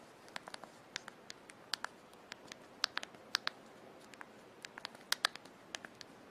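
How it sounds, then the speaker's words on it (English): Typing on a noisy full QWERTY keyboard, a quick irregular series of sharp, close clicks spread over several seconds against a quiet background. "Very noisy keyboard."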